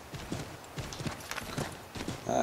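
A horse gallops in the Assassin's Creed 3 video game on Wii U, its hooves drumming in a quick, steady rhythm of close, loud beats, ending with a brief bright tone.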